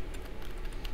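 A few quick keystrokes tap on a computer keyboard, faint and close, over a low steady room hum.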